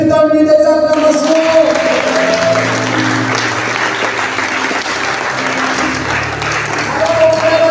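A church congregation claps and cheers loudly at a French-language Holy Spirit session, a dense steady roar with musical tones and a voice audible at the start and end.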